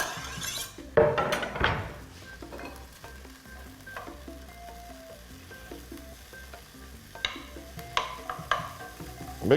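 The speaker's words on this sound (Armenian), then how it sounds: "Բեկոնը կտաքանա, յուղն էլ կհալվի, կխառնվի ձիթայուղի հետ" Finely chopped bacon sizzles and crackles in a hot pan with olive oil for garlic soup, a steady close fry with occasional stirring clinks of a utensil, no talking.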